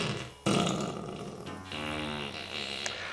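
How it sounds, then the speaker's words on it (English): A fart effect pedal in dry mode blurts out a loud, close, buzzy flatulent tone, sputtering and rumbling with a wobbling pitch for almost three seconds after a brief quiet moment. "It's the fart pedal."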